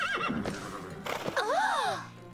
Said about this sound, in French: Et voilà mon cheval, merveille.